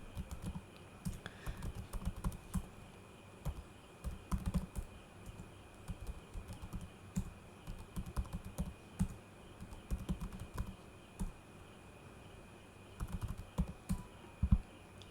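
Steady typing on a computer keyboard while entering names into an Excel spreadsheet, soft close key clicks in irregular bursts over a faint electrical hum, no talking.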